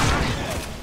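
Rapid bursts of gunfire in Resident Evil 6 fill the clip, a dense continuous volley with booming low end, loud and close throughout.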